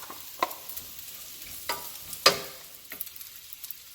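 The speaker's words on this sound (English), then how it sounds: "now I'm going to add my bacon" Bacon hits a hot pan for breakfast tacos and sizzles quietly, with a few sharp clinks and scrapes of a utensil stirring at irregular moments, no talking.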